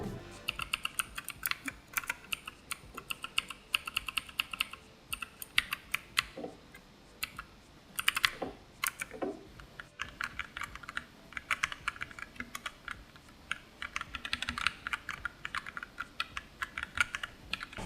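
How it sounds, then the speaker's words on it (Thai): Rapid, steady typing on a SteelSeries Apex 7 mechanical keyboard with blue and red switches, crisp clicky keystrokes in continuous bursts with brief pauses, close and fairly loud, no talking. "โดยเสียงนะครับต้อง แยกก่อนนะครับว่าบลูกับเรสต่างตัวไหนผมกดให้ดู"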